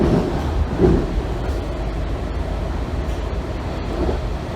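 Kawasaki 7000-series metro railcars 7148 and 7512 ride toward L'Enfant Plaza, a continuous low rumble of wheels and motors heard from inside the car, steady and fairly loud throughout with faint rattles.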